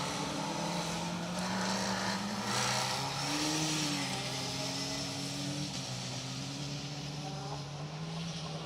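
A Honda Civic rally car drives on a cold, slippery track at a rally event, its engine a steady, loud drone that shifts pitch as it accelerates and holds revs throughout.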